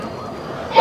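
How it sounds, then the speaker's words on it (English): Dogs barking near a Royal Enfield Scram 440 motorcycle workspace, one sharp yipping bark bursting loud at the end of a brief stretch of low background noise. "I don't know why the dogs are barking."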